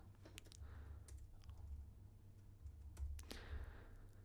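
Soft, quick clicks of a computer keyboard tapping in short irregular bursts over a low steady hum, quiet and close, with no voices.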